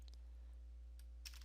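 Keys typed on a Dell XPS 13 two-in-one laptop keyboard: a few quiet, sparse clicks spread over a faint, steady room hiss, with no voices.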